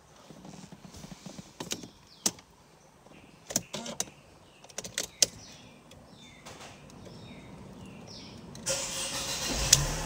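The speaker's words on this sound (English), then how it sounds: "So now let's start the car with the door closed." A 2008 Mercedes-Benz SLK200 1.8 convertible starting with the door closed: a series of sharp clicks and mechanical clunks, then the engine catches near the end and settles into a steady, fairly close running hum.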